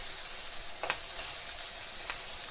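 Shrimp sizzle on a grill with a close, steady hiss, broken by a couple of faint ticks and pops. No one speaks.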